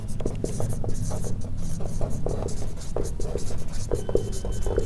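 Chalk or marker scratching steadily on a classroom board during a solid-state chemistry lesson on stoichiometric crystal defects, a run of short strokes close by with a faint whispery voice underneath.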